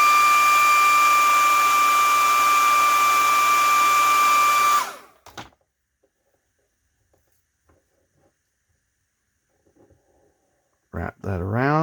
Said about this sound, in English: so we're going to use a hairdryer on it.